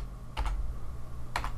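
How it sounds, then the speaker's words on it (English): Two short bursts of computer keyboard typing, close and clear, each a quick cluster of key clicks separated by a pause over a steady low hum. "But then we're just gonna type in 57 foot,"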